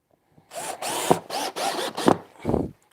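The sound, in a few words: power drill driving screws into a gargoyle letterbox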